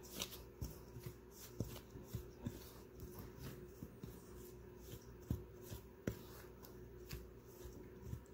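Flour, yeast, icing sugar and salt are stirred together in a bowl, making soft, close, rhythmic scraping and tapping strokes at a quiet level.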